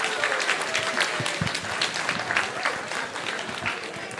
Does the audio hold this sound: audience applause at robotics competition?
yes